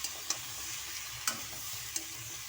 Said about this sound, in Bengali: দিয়ে আমি ভালো করে নেড়ে নিচ্ছি